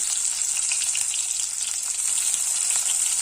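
Small onions, crushed and tossed in with green chillies, fry in a pan, giving a steady, close crackling sizzle with no talk.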